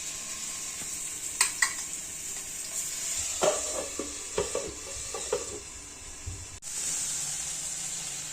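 Chicken sizzles steadily on a tava, a constant hissing fry with intermittent scraping and stirring clatters from a utensil, fairly close, with no talk.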